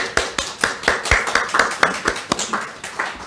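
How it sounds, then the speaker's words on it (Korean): A church congregation at a Sunday evening service claps, a steady run of sharp, fairly close claps in an even rhythm with no voices over it. "앞으로 나오실 때 한번 박수 한번 쳐드릴까요?"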